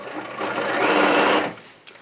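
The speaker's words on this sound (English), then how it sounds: "Put that underneath the sewing machine." Sewing machine running steadily for about a second while stitching around a shirt sleeve at the side seam, a continuous near whir that rises, holds and then stops.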